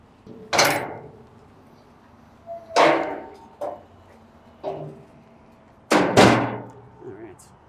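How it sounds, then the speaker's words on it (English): Spring-assist ramps on a Diamond C FMAX 216 gooseneck trailer are lifted, producing several loud metallic clanks and bangs at irregular intervals, close by, with brief quiet between them. "As you can see, it takes no effort to lift these ramps."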